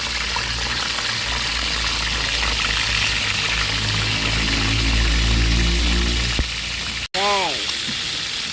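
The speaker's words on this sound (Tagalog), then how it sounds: "prito na natin ang daing na bangus" Boneless marinated milkfish, daing na bangus, frying in hot oil: a steady dense sizzle and crackle throughout, followed by a short pause and clatter of handling.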